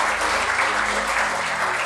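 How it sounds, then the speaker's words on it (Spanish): A church congregation bursts into applause, thick continuous clapping from many hands filling the room at full strength and close, without a pause. "dale un aplauso al Señor"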